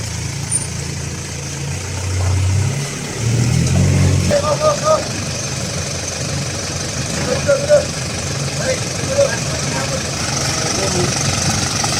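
An Isuzu Panther's engine revs and strains as it crawls along a narrow path meant for motorbikes, a steady mid-pitched drone with surges, while people inside talk over it.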